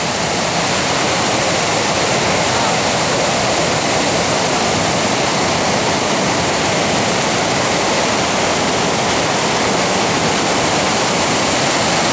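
The Cross River in Minnesota rushes loudly and steadily, a dense, unbroken roar of fast-moving water heard up close along a hiking trail, with no voices.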